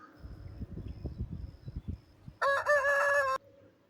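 A rooster crows once, a loud cock-a-doodle-doo lasting about a second, following a stretch of quieter background clatter.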